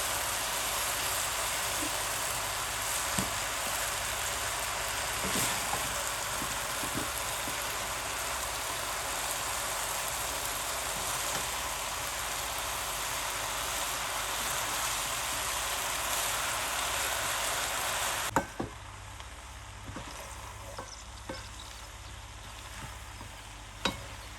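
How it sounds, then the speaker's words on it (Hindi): Spaghetti noodles stir-frying in a pan for chicken vegetable chow mein, a steady soft sizzle with faint scraping and stirring clicks, quieting a little near the end. "अब इसमें डालते हैं जी हम अपनी स्पगेटी और इसको करते हैं अच्छी तरह मिक्स।"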